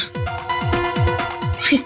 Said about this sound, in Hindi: अब तो मोबाइल की रिंगटोन निकाल रहे हैं